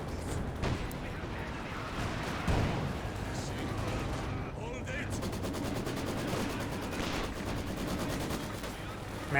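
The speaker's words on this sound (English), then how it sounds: "Maxim firing away" A Maxim machine gun fires in a Company of Heroes 2 battle, rapid bursts and scattered shots in a steady, noisy clatter under a busy mix of gunfire, with someone talking over it.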